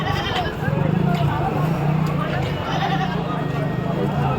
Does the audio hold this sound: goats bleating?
yes